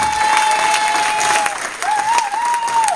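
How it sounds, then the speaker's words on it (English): An audience at a stand-up comedy charity night applauds the event organiser: steady, dense clapping throughout, close and loud, with a thin sustained tone running above it. "can we just have a big round of applause for Kerry"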